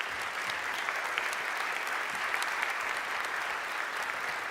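Sustained audience applause at a book presentation during a science and ideas congress, dense steady clapping from a crowd throughout, moderately loud with no voices rising above it.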